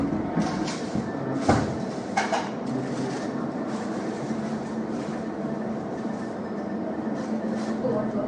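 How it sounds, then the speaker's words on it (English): A train rumbles steadily nearby with a few sharp metallic clanks, and voices murmur faintly in the background. "The train has finally arrived"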